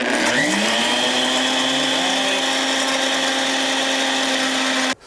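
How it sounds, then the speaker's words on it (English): A blender runs steadily at high speed, mixing sriracha hollandaise made with hot unclarified butter in a kitchen. The motor whines loud and constant for about five seconds before cutting off abruptly. "All in the blender."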